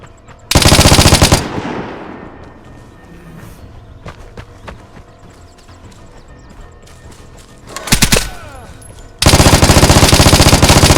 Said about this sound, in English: Gunshots attract players.